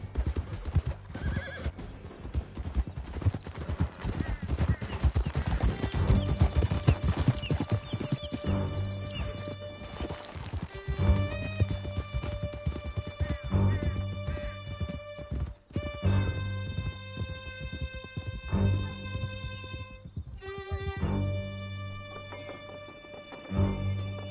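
Horses gallop in Red Dead Redemption 2, a steady drum of hoofbeats running close and continuous with repeated neighs and whinnies layered over the pounding.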